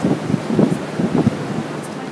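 Cold wind gusts across the open deck of the Golden Princess cruise ship, a steady buffeting rush with uneven swells that stays loud throughout.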